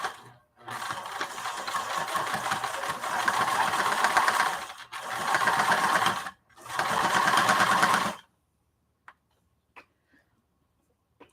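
A sewing machine fitted with a denim needle stitches a denim project bag in three steady runs of rapid, even whirring, each broken by a brief pause, then stops and leaves a few faint clicks.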